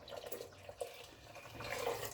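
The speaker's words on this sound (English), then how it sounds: "Put this water and the milk into it" Water and milk are poured into a pot for noodles, making a soft, continuous splashing trickle close by that grows slightly fuller toward the end.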